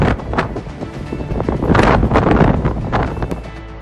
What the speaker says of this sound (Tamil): மணிக்கு 145 கிலோமீட்டர் வேகத்தில் காற்று வீசி வருவதால்